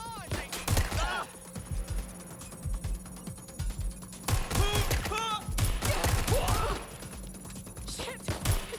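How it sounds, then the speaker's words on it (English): Gunfire in the video game Watch Dogs Legion crackles in sharp bursts and loud bangs, mixed with shouting voices and impact crashes, dense and close throughout. "Suspect shooting."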